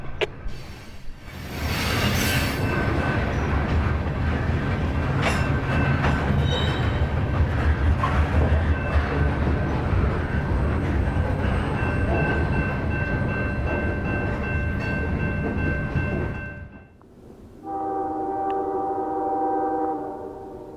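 A southbound CSX manifest freight train passes close by on the Chattanooga subdivision north of Stevenson, a loud sustained rumble of wheels and cars with squeals, then a brief lull before steady horn-like tones near the end.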